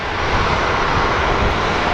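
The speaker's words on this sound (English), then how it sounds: "we do have a plane landing on 25 right" Southwest airliner landing on runway 25 right at Phoenix Sky Harbor International Airport, its engines a steady, loud, broadband roar throughout with no talk.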